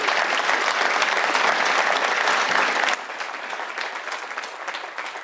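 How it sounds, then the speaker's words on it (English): A crowd at a campaign kickoff event applauds a panel with dense, steady clapping that drops to a lighter, continuing patter partway through. "Round of applause for the whole panel."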